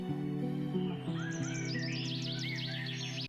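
Morning birds chirp and trill in quick, high repeated phrases over a steady low drone, fairly faint and mixed with background sound.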